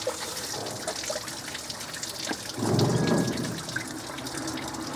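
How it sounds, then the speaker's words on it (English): Coolant pours out of a VW 1.9 TDI thermostat housing as it is opened. A soft background hiss swells into a louder, close gush of liquid for about a second, then settles back to a trickle. "There goes the coolant."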